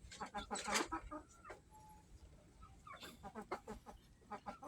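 Several chickens clucking close by in a rural yard, bursts of rapid clucks and short calls in uneven clusters with a brief pause between, over soft background noise.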